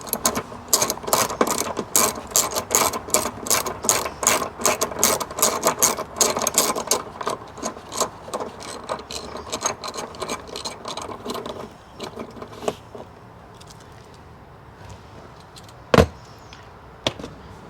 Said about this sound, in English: grab a 10mm socket wrench